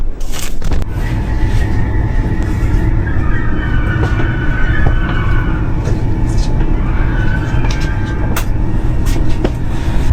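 A train rumbles along at steady speed, loud and close, with low wheel and engine drone and occasional metallic clanks; voices are faintly heard underneath.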